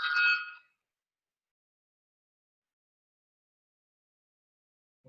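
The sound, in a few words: alarm going off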